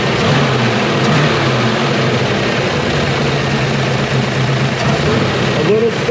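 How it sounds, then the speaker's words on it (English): A small-block engine in a Malibu idles with a slight stumble, a loud steady low rumble throughout with a voice talking over it. "A little stumble at idle."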